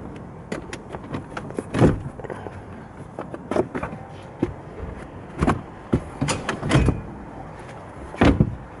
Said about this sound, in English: I'll just open the boot of the vehicle.